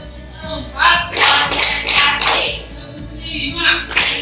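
Rhythmic hand clapping from a classroom of students in a counting clap game, several bursts of group claps in quick sequence with voices chanting along between them.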